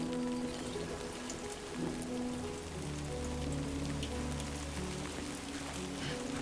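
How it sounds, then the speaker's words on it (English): Steady timefall rain in the video game Death Stranding 2, a dense even patter of drops on surfaces running continuously throughout, with a faint low tonal hum of game music beneath and no talk. "We got some face flaps because it's raining."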